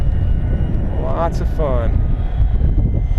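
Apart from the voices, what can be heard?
Hobby King Avios YAK-52 RC model plane engine flying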